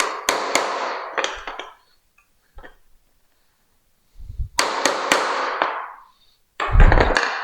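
Sharp mallet strikes on a bench chisel cutting into wood at a workbench, a few rapid knocks in bursts separated by pauses, close and loud with no talk.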